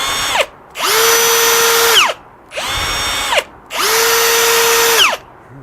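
Milwaukee Hole Hawg right-angle drill, an older model, running in two bursts: each spins up with a rising whine, holds a steady high-pitched motor drone, then winds down, with short pauses between.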